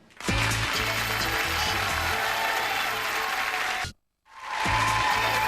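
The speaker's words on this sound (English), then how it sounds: "The champ's got his cheer squad in action once again." A game show studio audience cheer squad cheers and applauds in a loud, steady roar of clapping and voices that cuts off abruptly into silence before surging back.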